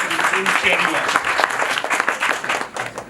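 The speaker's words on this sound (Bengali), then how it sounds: "আপনাদের নিজেদের জন্য যদি একটু ছোট্ট করে একটা হাততালি দেন" Conference audience at an e-commerce summit in Bangladesh applauding, a dense, loud burst of many hands clapping together that carries through the whole stretch and tapers slightly at the close.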